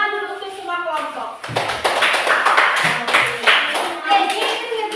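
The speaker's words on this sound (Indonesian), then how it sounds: "Tepuk tangan dulu untuk semua kelompok." A class claps together for all the student groups, a dense burst of hand clapping that swells and carries on through the clip, with children's voices mixed into the applause.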